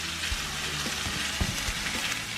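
Butter sizzles and crackles steadily in a hot pan alongside garlic cloves and thyme sprigs, a continuous dense frying hiss with occasional soft pops and clinks, close and moderately loud with no talk.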